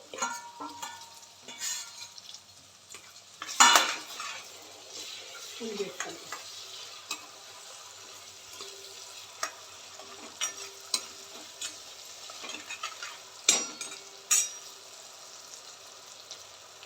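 Tomatoes fry with a low sizzle in a home kitchen pan as a spoon stirs and scrapes in irregular clinks and knocks, close and fairly quiet.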